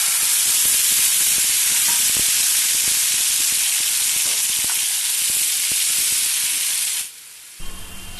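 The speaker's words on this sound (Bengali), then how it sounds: "মাছ ভাজা হয়ে গেলে ওই তেলের মধ্যে কালো জিরে, দুটো শুকনো লঙ্কা ফোড়নে দিয়ে সর্ষে, পোস্ত, কাঁচা লঙ্কা একসাথে বেটে রেখেছি" A ground paste of mustard, poppy seed and green chili, with black cumin and dried red chilies, sizzles and hisses loudly in hot oil left from frying fish, then cuts off abruptly near the end.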